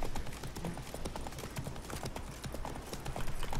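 Roach, the horse from the video game The Witcher 3, trots with quick, close clip-clopping hoofbeats in a regular rhythm against a busy in-game background, with some faint talk.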